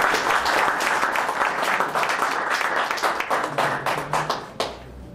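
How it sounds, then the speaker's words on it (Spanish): An audience applauds a guest expert at a climate lecture: dense clapping at first that thins into distinct individual claps, fading out near the end. "pida un aplauso"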